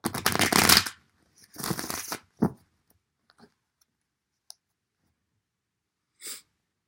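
Tarot cards shuffled by hand in two brisk riffling bursts, close and crisp, followed by a few soft taps and card handling sounds amid quiet.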